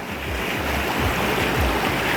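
Strong river current rushing steadily at a rural crossing in the Philippines, a continuous loud broadband wash with low rumble throughout.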